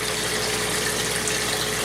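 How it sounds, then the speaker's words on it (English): An aquaponics water pump pushes water back up into a 500-gallon tank, giving a loud, steady rushing gush that runs unbroken and alone throughout. "when the water gets to a certain height, it turns on the pump that's down here. The water pumps back up"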